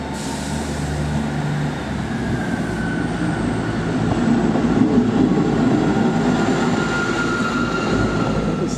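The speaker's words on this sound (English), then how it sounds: "So this is the East Midlands service to Norwich." East Midlands train to Norwich at Manchester Piccadilly station, a steady diesel rumble and wheel noise that swells a little midway, with faint squeals, no talking.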